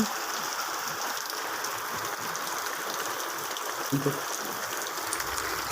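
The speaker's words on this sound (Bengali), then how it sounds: "প্রচুর বৃষ্টি পড়তে লেগে গেছে" Heavy rain falling outdoors as a steady, dense hiss of drops spread evenly throughout, with a couple of faint brief knocks near the end.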